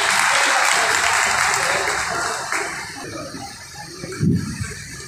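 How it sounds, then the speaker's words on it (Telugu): An audience claps on request at a Medchal district Telangana realtors association meeting, with loud sustained applause that gradually thins out, leaving scattered claps and a brief thump near the end. "ఒక్కసారి క్లాప్స్ కొట్టండి దయచేసి."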